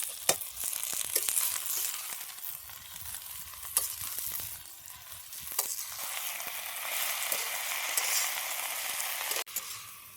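Vegetables sautéed in a pan with oil, a steady broadband sizzle with scattered stirring scrapes and clicks, close and moderately loud with no talking.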